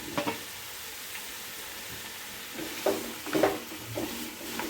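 Chopped chow chow sautéing in a pan, a faint low sizzle with a few soft stirring scrapes toward the end.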